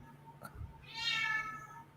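A cat gives a short, clear meow at close range after a soft bump, over quiet room noise.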